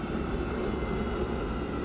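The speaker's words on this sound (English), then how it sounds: "let's go ahead and shut down these engines" F-35B Lightning jet engines in MSFS 2024 spin down after parking, a quiet, steady broadband hum with low rumble and no talking.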